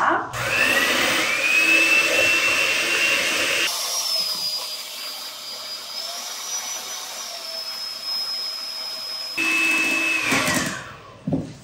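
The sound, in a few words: electric mixer whipping egg whites with sugar at medium speed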